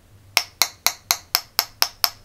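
Eight evenly spaced taps on a counterfeit 18650 lithium battery cell, each a crisp, hollow-sounding metallic click with short decay, close up with no talking.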